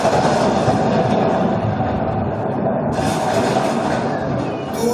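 A running train rumbles past nearby, loud and continuous, with rolling wheel noise and rail clatter sustained for the whole stretch and no speech.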